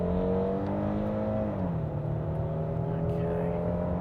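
A 2023 Hyundai Palisade SUV accelerates hard from a standstill in a 0-100 test, its engine droning steadily upward, dipping briefly at a gear change, then climbing again, heard from inside the cabin.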